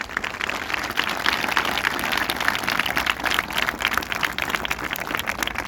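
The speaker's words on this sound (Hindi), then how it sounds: "अपने लिए सभी तालियां बजाइए।" An audience at a school Independence Day program claps in a loud, dense burst of applause that holds steady for several seconds with no break.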